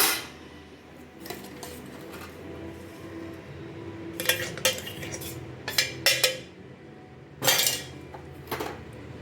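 A ladle stirs chilli and coriander spice powder in a metal pan, scraping and clinking in irregular bursts of metallic knocks and rattles, close and fairly quiet, with softer shuffling between strokes.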